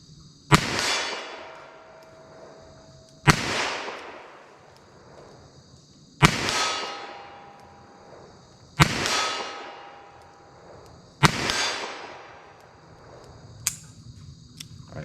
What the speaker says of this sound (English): Let's see what I can do with these 32 H&R Magnum rounds from 40 yards.